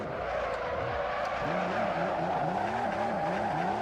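BMW M3 E30 drifting in Assetto Corsa, its engine droning at high revs while tires squeal in repeated wavering bursts, loud and close throughout with no talk.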